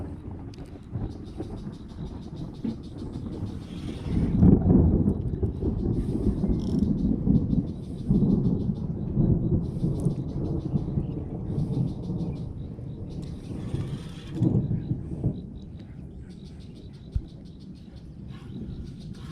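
Thunderstorm over a fishing park in Thailand, long deep rolling rumbles swelling and fading across the whole stretch, distant and heavy, with faint bird calls above and no talking.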